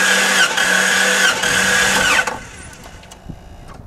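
A 1989 Jeep Cherokee engine cranks over on the starter during a cylinder compression test at dusk, a loud, steady whirring chug that cuts off abruptly after about two seconds, leaving quiet background.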